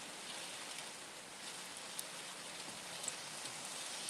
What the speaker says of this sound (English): There's so much rain coming in.